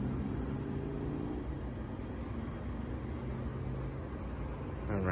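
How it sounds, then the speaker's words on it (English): Continuous cricket chirping plays from an outdoor Halloween decoration sound effect, a dense steady insect trill layered over constant background hiss with no break throughout. "I don't know if you could hear the crickets chirping."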